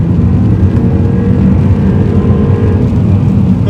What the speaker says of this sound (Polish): Ja jadę teraz czwórką 2000 obrotów, gaz w podłogę i ten samochód odjeżdża.